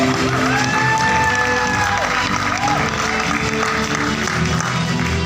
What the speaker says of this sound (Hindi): एक बार तालियां हो जाए रोशन जी के लिए।